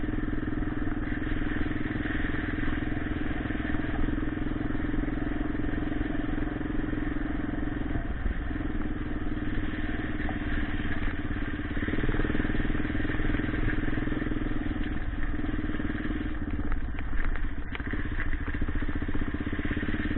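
A Yamaha XT600 E motorcycle runs steadily with a low, continuous engine drone and some clatter, its pitch shifting slightly as the rider moves on a slippery trail; no talk is heard.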